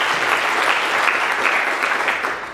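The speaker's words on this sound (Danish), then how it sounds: "Så klap igen, ja!" Steady, dense applause from a university alumni-day audience fills the room for the whole stretch, with no talking over it and a slight fade right at the end.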